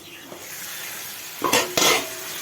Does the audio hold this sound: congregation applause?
no